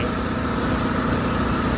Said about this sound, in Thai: เครื่องยนต์เดินนิ่มเรียบนะครับ